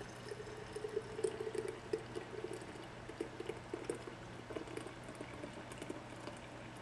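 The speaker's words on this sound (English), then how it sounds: "Just pour it very gently." Liposomal vitamin C liquid poured gently through a screen into a jar, a soft continuous trickle with faint gurgling and bubbling, quiet and close, with no talk.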